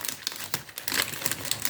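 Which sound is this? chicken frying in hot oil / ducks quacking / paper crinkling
paper crinkling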